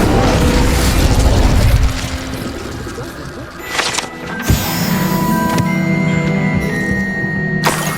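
The Incendio fire spell cast in Hogwarts Legacy: a loud whooshing burst of flame at the start, then a mechanical whirring and a sharp pop, followed by a soft sustained tonal shimmer.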